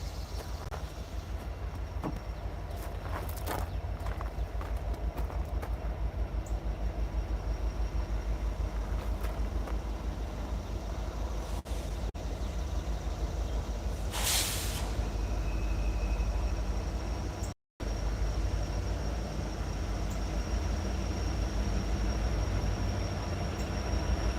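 A BNSF locomotive leads a freight train along a CSX line, heard from high on a cliff as a steady, distant rumble with no voices.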